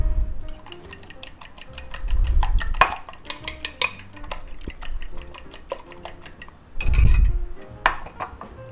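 Eggs seasoned with salt, pepper and garlic are beaten in a bowl for a cabbage pie, giving fast, rhythmic clinks and taps of utensil on dish, close and fairly loud, with a few heavier knocks.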